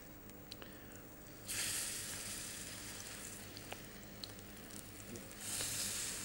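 Potato pancake batter hits hot oil in a pan and fries with a steady, close sizzle that swells as each spoonful goes in, with faint spoon clinks between.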